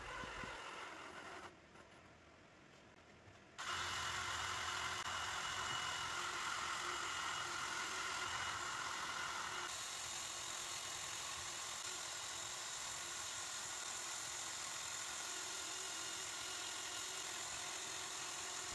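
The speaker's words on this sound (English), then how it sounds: "mount each pen to my drill while I sand each pen up to 500 grit" Wooden pens mounted on a tape-wrapped drill bit spin steadily in a handheld drill while being sanded up to 500 grit, a continuous whirring motor hum with a brief quieter stretch near the start.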